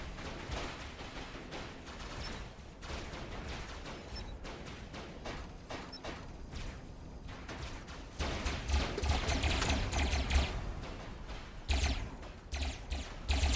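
Rapid SMG fire in Robocraft rattles steadily under a constant mechanical game din, growing louder and denser in the later bursts.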